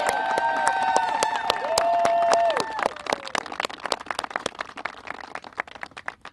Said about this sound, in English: Can we get one more round of applause for Representative Al Green?